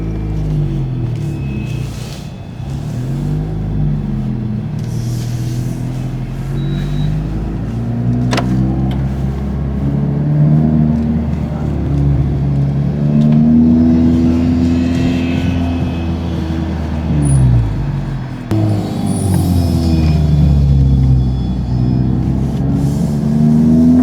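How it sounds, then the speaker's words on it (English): A Honda car's engine revving during driving, with blips of rev matching on downshifts: loud, close cabin drone that climbs and dips repeatedly, with several distinct rising and falling rev sweeps. "Rev matching is working again."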